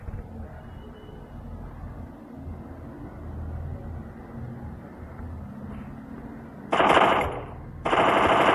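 Automatic weapon fire in a shooter video game, two loud sustained bursts near the end after a stretch of quieter background game sound.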